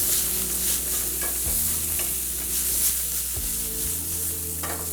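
Ginger sticks and onions being stirred as they sauté in a hot pan, giving a steady, close sizzling hiss with occasional utensil scrapes and stirs, no voices.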